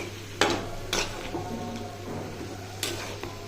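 Banana flower frying in a pan, with a steady low sizzle and a few sharp clinks and scrapes of a utensil stirring against the pan, close and moderately loud.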